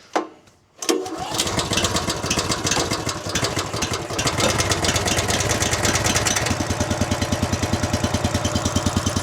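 Wolfe Ridge 28C log splitter engine pulled over, catching after a brief pause, then revving and settling into a steady, loud chugging idle with a regular rhythmic beat.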